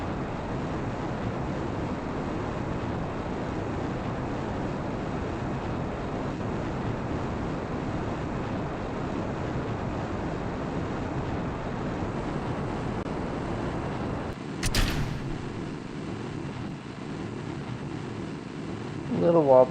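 Oversized solid rocket boosters firing at liftoff in Kerbal Space Program, a steady, dense roaring rumble that holds constant throughout and is briefly broken by a sharp crackling burst.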